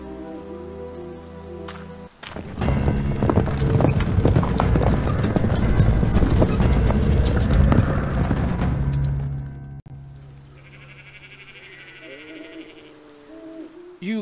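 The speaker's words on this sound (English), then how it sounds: "I'll tie up my horse." Horse hooves clip-clop loudly and steadily in the Endless Fables: Dark Moor adventure game, mixed with heavy rain and an owl-like call before fading to a quieter ambient scene.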